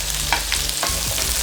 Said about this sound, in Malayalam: ഈ ഷേപ്പിൽ കട്ട് ചെയ്ത സവാളയും അതേ ഷേപ്പിൽ തന്നെ കട്ട് ചെയ്ത ക്യാപ്സിക്കം ഇട്ട് കൊടുക്കാം